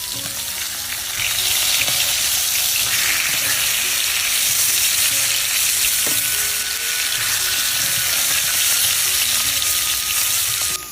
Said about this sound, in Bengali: মাছ ভাজা হয়ে গেছে, আর নামাই নেব।